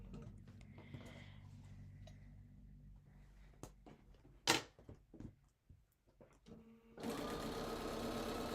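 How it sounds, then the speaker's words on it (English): A home sewing machine stitching slowly over a quilt seam: a low mechanical hum with scattered ticks and a few louder clicks, then a steady, louder run of the motor near the end, close by. "So I just slow down, go one stitch over the seam line"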